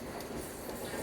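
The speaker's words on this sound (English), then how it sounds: "Train now departing or waiting to depart Baker Street" A London Underground Metropolitan line train at Baker Street station, a steady rumbling roar of rail noise heard up close for a moment, with no voices.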